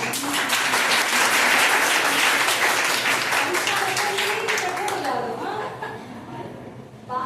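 Audience applause at a World Suicide Prevention Day talk, loud sustained clapping with some laughter mixed in, thinning and fading toward the end.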